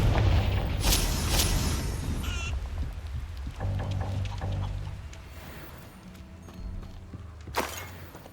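Confringo spell blasts in Hogwarts Legacy, with booming fiery explosions and crackling bursts near the start and another sharp burst near the end, over shifting low rumbles and game effects.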